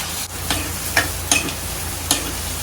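Chopped chillies and onion sizzle in a hot pan for home-style prawn masala, a steady close crackle with a few sharper pops and stirring scrapes, no voices.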